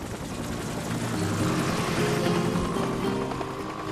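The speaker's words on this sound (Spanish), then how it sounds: "Vi que el helicóptero sobrevolaba por encima de nosotros." A helicopter passes overhead in the African bush, a steady, loud broadband rotor-and-engine roar with a low throbbing rumble that swells slightly and holds through the whole stretch, with no talking.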